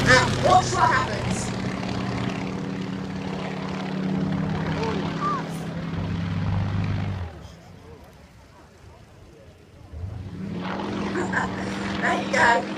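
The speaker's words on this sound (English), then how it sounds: "take the aircraft up to the vertical and watch what happens" A Yak 52 aerobatic aircraft's engine drones steadily during a Lomcovak manoeuvre, then drops away to near quiet before swelling back, with someone talking over it.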